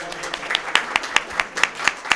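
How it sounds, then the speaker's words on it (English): Sparse scattered hand claps from a small crowd at a school district board meeting, a few claps per second with light crowd noise, modest and brief. "Let's give Diana Mitchell a round of applause"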